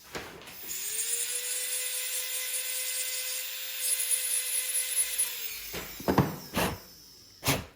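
A dental lab drill trims and smooths a posterior bridge model in a steady high whine for about five seconds, then winds down into a few short grinding touches and scrapes.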